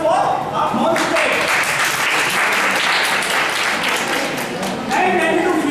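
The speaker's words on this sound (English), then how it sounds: "So big round of applause for our non-state." Lecture audience in Hyderabad giving a round of applause, a broad, continuous clapping that swells and holds at full level, with a speaking voice faintly present at the start and end.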